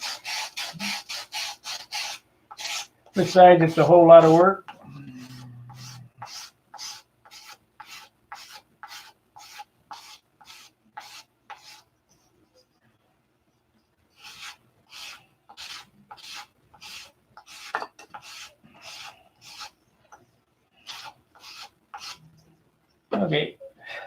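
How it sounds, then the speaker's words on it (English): Wood is sanded by hand in long, rhythmic back-and-forth strokes, close and scratchy, with a pause midway and someone speaking briefly near the start. "Well, you've seen my sanding techniques."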